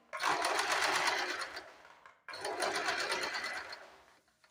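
Sewing machine back-stitching a blouse seam with a double stitch, two bursts of loud, steady rapid stitching separated by a brief pause, no talking.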